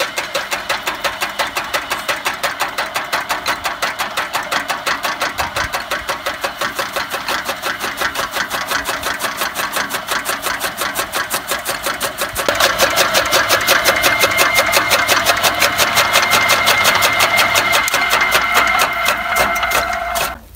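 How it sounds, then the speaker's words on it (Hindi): A toka fodder chopper cutting green grass in a Pakistani village runs with a steady, rapid mechanical clatter, growing louder and busier partway through as the cutting load picks up, with no talk over it. "अभी टोका चलेगा और उसकी आवाज़ आएगी टक टक टक टक"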